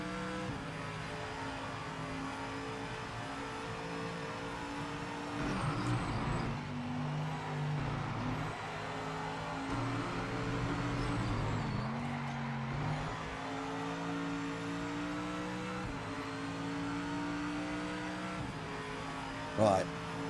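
Race car engine in the video game Project Motor Racing on a qualifying lap, a steady droning roar with repeated gear shifts and rises and drops in revs, a voice occasionally speaking over it.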